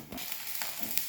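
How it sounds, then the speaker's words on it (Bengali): Semolina paratha frying in a little oil on a griddle, a short close spell of soft crackling sizzle with faint scraping ticks. "পরোটাটাকে এবার ভাজবো"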